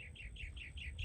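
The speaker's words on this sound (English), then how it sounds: "the birds chirp and sing" Birds chirp outdoors under an open sky, a steady series of about six bright, evenly spaced tweets over a soft low background hum, with no voices.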